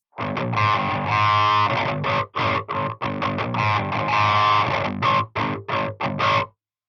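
Electric guitar played through a Joyo Zombie distortion pedal: gritty, fuzzy chords and choppy stabs, loud and close, ending abruptly in silence.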